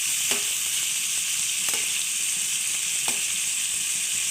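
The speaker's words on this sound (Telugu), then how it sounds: "ఇప్పుడు ఆయిల్ వేసేసి ఫ్రై చేసుకుంటున్నాను" Tomatoes and green chillies frying in oil in an old well-used pan, a dense, even hiss of sizzling with a few faint clinks of a spoon against the pan.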